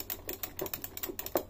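Rapid, sharp plastic clicks from the arcade buttons on a Pandora's Box Key 5S plug-and-play arcade stick, about a dozen close presses in an uneven rhythm with no talk.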